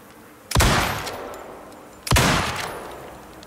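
Two loud, close gunshots in the game Icarus, fired blindly toward a bee hive, spaced about a second and a half apart, each booming and decaying slowly.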